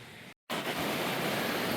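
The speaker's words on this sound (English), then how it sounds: "Down here by the river, beautiful." A river flows with a steady, broad rushing wash, heard close and continuous apart from a brief silent gap near the start, set among autumn aspens on Skyline Drive in central Utah.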